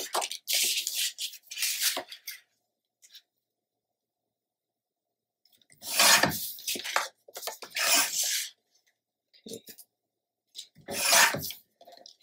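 Scissors cut paper ephemera for a scrapbook page in a few short close bursts of snipping and rustling, with quiet pauses between them and no voices.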